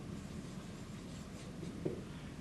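Pencil or pen scratching on paper while a cut list for a wooden picture holder is written out by hand, a faint steady scraping with one small louder tick near the end and no talking.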